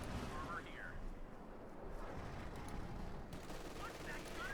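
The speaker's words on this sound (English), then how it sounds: "Machine gun ambushing." Machine gun fire in the Company of Heroes 2 real-time strategy game, a continuous rattling burst under battle noise with brief whistling effects, fairly loud and sustained throughout.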